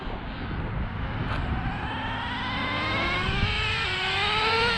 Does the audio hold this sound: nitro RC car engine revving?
yes